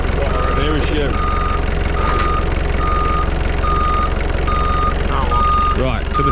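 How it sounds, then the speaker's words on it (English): Forklift reversing at a work site, its alarm sounding steady evenly spaced beeps throughout over a loud engine rumble, with a voice talking nearby. "learning to drive a forklift"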